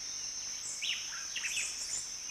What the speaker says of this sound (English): Collared lories are widespread throughout Fiji.